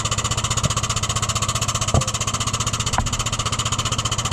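A FIAT 12-series tractor engine (1250-A, 1250 or 1255) runs steadily with a fast, even chugging pulse while powering a hydraulic jack, loud and close, with a few brief knocks over the drone.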